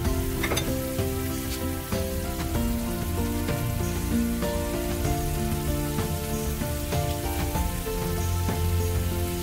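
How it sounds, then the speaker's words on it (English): Kimchi fried rice cooking in a hot pan as rice goes in, a loud, continuous close sizzle with stirring scrapes and clinks scattered throughout. "now you can add the rice"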